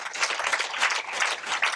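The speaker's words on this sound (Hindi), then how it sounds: "इस बात पे मैं ताली बजा लेनी चाहिए।" Audience clapping at a lecture on herbal shampoo research, a brief burst of steady, moderately loud applause from a seated group with no talking over it.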